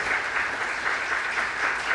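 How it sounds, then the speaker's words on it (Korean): Church congregation applauding warmly during a Sunday worship service, steady dense clapping filling the room from start to finish with no speech over it. "자, 뜨겁게 박수해 주시기 바랍니다."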